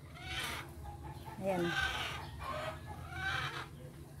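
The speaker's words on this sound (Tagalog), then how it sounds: "Nagwawala yung manok." A captured hen clucks and squawks in agitated bursts as she struggles on a farm, close and fairly faint, mixed with someone speaking briefly.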